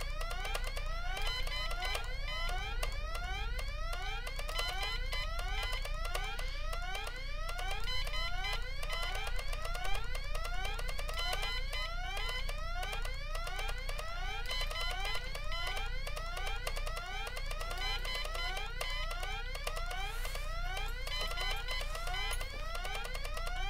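An electronic alarm blares in the point-and-click game Deponia as a repeating sweep of rising wails with a fast, regular rhythm. It continues steadily throughout at a moderate level.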